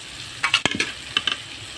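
Tomato masala for neem flower kuzhambu sizzles in a pan as a pinch of asafoetida powder goes in, with a few quick stirring scrapes over a soft, steady sizzle and no talking.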